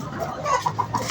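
A few short hen clucks sound close by in a quick, uneven series over faint background noise, in a domestic yard where a rooster roams.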